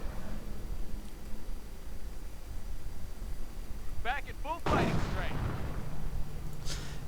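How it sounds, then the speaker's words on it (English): Anti-tank guns firing in a World War II strategy video game, a heavy blast landing mid-clip with rumbling explosion tails under steady game noise, while a commentator talks throughout. "Stu getting blasted by anti-tank guns"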